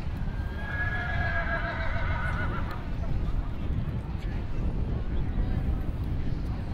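A show pony neighs loudly over the first three seconds at a steam fair carriage-driving display, then steady outdoor rumble and hoof clatter continue as the pony pulls a modern, traditionally styled carriage.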